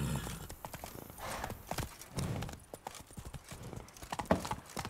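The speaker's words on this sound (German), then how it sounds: "So, dann reiten wir mal los, wa?" Horse hooves clip-clop in a steady gallop-like rhythm while riding in The Witcher 3, close and prominent, with a faint whinny at moments and no speech over it.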